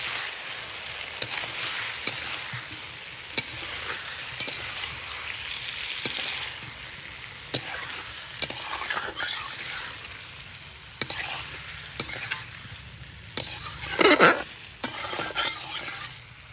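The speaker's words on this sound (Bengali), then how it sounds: "কচুগুলো ভালোভাবে কষিয়ে নেওয়া হয়ে গিয়েছে," Taro pieces (kochu mukhi) stirred and sizzling as they fry in spiced oil for a village-style rui fish curry, with a steady frying hiss and repeated sharp spoon scrapes and clinks against the pan, loudest near the end.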